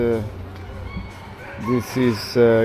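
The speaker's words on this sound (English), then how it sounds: "Oh, because of the rooster." Close, loud clucking and crowing calls from a rooster in Key West in short bursts, with a voice speaking briefly at the start.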